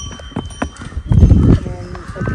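Horse hooves clip-clopping on the Ghorepani trekking trail in Nepal, several close, distinct hoof strikes in an uneven rhythm alongside a heavier scuffing burst, with people talking over them.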